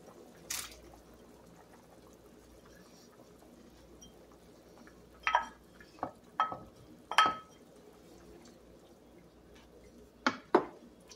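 A spoon stirs jackfruit binignit in a cooking pot, giving a few quiet, separate clinks and scrapes against a faint simmering background.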